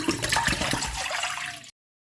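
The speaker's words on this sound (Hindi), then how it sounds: "खुले हुए बर्तन में पानी ले लूँगी" Water pours into an open cooking pot for pasta, a close, splashing gush that runs steadily for about a second and a half and then cuts off abruptly.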